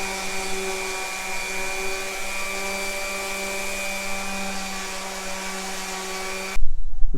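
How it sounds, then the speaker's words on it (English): A loud, steady mechanical whine of an orbital sander sanding a wooden sleigh bed down toward raw wood runs continuously for several seconds, then stops abruptly, followed by a few dull knocks. "we get to use our really cool new orbital sander"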